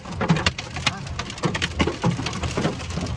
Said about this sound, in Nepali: यत्रो ठुल्ठुलो असिना पानी पर्यो